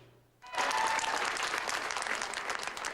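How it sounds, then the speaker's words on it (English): A crowd inside the Simcoe County District School Board offices in Midhurst suddenly bursts into loud, sustained applause after a quiet moment, thick clapping holding strong to the end. "The crowd inside the Simcoe County District School Board offices erupts after trustees vote to postpone the closure of a handful of area high schools"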